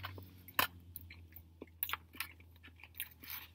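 Close, soft crunching bites and chewing on a Wendy's Jalapeño Fresco spicy chicken sandwich with a toasted bun, a sharp bite near the start followed by scattered quieter chews, with no talking.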